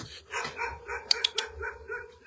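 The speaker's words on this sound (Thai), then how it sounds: "เห่าทำไม" A dog barks at night during a ghost-hunting outing, a series of sharp, fairly faint barks and yips with three quick close peaks in the middle, over quiet background.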